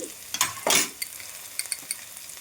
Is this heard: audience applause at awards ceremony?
no